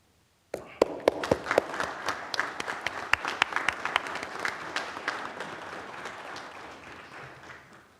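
Audience applause at a Bridgewater council meeting: a crowd claps steadily for about seven and a half seconds after a brief quiet start, with sharp individual claps standing out early before the sound gradually thins.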